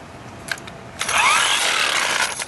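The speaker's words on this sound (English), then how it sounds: "you want to make sure that your, right here, the impact wrench is turning left" An impact wrench loosens the rear wheel bolt on a Chinese scooter, its motor whirring up to a steady, loud buzz with a rising whine after a couple of soft knocks, heard up close.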